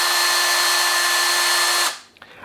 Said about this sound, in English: So it's just a hand-operated drill, and it's dead simple to use.